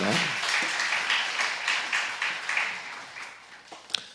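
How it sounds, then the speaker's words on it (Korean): A church congregation gives a short round of applause during a worship service. The clapping is fairly soft and fades out over a few seconds. "우리 하나님께 영광의 박수 드립니다"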